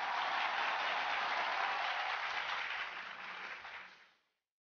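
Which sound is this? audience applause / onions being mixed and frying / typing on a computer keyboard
audience applause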